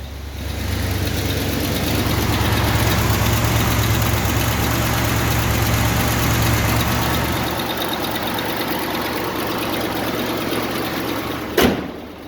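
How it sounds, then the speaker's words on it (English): An old vehicle's engine idles steadily while warming up, a loud continuous low rumble that eases slightly partway through before a brief clunk near the end, with no voices. "it's an old vehicle. I like to let it warm up"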